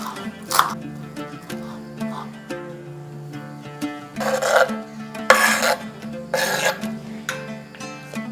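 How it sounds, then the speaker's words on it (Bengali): Chicken and cheese mixture with chopped fresh coriander being mixed and beaten by hand in a bowl, giving soft squelching and rubbing sounds with a few light clinks, close and moderate, over faint background hum. "এরপরে পুরো জিনিসটাকে মিশিয়ে নিচ্ছি।"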